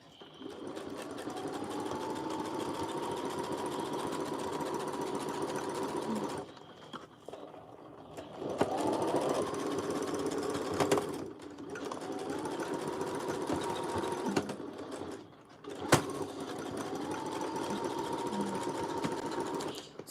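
A sewing machine runs in long steady bursts stitching a dress seam near the sleeve and armpit, its whirring motor humming for several seconds at a time, broken by short pauses and small clicks between runs.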